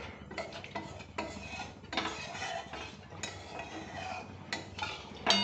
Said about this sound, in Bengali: এই কড়াইটায় যা মশলা লেগে আছে সেটা ভালো করে ধুয়ে নিচ্ছি।